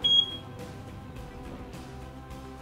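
A Zap timer gives one short, high beep right at the start as its hidden key is held, then only faint clicks and a quiet room follow.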